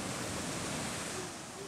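The Buchenegger waterfalls in the Allgäu rush with a constant, even roar of falling water that fills the scene. The noise is steady and close and fades a little at the end.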